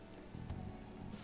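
Rain falls steadily in the Persona 5 Royal video game, a soft even patter with no talk, heard as a quiet wash.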